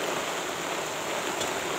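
Rain falling at a cemetery during grave digging in the rainy season, a steady broadband hiss of downpour with no pauses, fairly faint and even throughout, with no voices.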